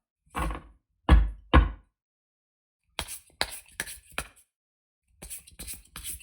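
Sirens Song Lenormand and Kipper card decks being mixed by hand: three dull thumps, a pause, then a quick run of papery slaps and taps, with another burst near the end. Sounds are close and there is no talking.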